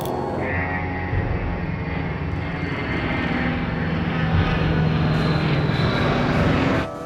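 Aircraft taking off in an action film, a loud continuous roaring engine drone that swells slightly over several seconds, heard alone.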